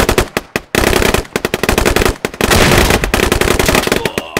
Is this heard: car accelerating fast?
no